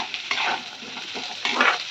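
A spatula scrapes and stirs onions and potatoes sizzling in a hot pan, with two bursts of stirring over a steady frying hiss.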